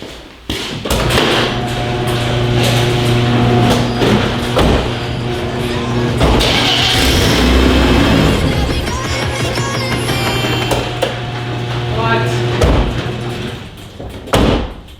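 A BMW E30 Touring car with an open differential drives on a snowy test drive. A steady, loud engine drone carries throughout, broken by several dull thumps and clunks from the car.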